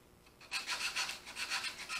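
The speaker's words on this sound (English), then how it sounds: "A little bit of sanding, take out some of the rust spots." Hand sanding with 220 grit sandpaper wrapped around a pen scrubs rust spots off a metal farmhouse key rack: quick rhythmic rasping strokes, close and clear, starting after a brief quiet moment.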